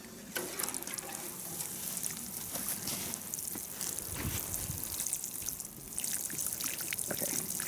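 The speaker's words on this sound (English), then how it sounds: "So then I just water it in" Water pours and trickles steadily for several seconds, splashing softly onto the ground around a newly set fence post, with no voices.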